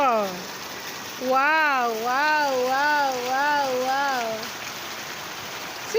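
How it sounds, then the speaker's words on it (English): Steady rain falls as the first rain of 2024 after a spell of intense heat, a continuous soft hiss throughout, with a wavering drawn-out vocal tone from a person rising above it midway. "it's raining here today. This is the first rain in 2024."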